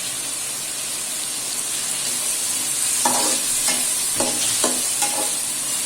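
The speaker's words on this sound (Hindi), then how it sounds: "2 मिनट तक इसको पकाएंगे, फ्राई करेंगे तो ये यूनिफॉर्मली अच्छे से हो जाए।" Bottle gourd and chana dal masala fry over a medium flame with a steady sizzle, joined midway by several distinct scraping strokes of a spoon stirring in the pan.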